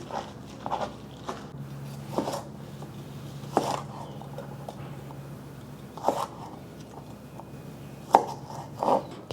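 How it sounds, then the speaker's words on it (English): A knife chops bok choy stalks into short pieces on a cutting board, a few spaced, sharp chops and cuts that land irregularly against a quiet kitchen background. "I'm just gonna cut them down into about 3-inch pieces."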